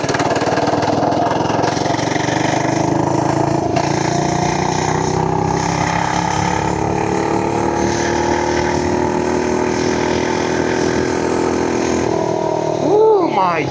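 FRP GMB100 mini bike engine held at full throttle, a steady loud buzzing drone with pitch gradually climbing as the bike accelerates, continuous throughout with a brief shift near the end.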